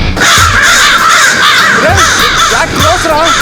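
Crows caw repeatedly and loudly in a movie comedy scene, the harsh calls overlapping in a dense flock chorus with people talking underneath.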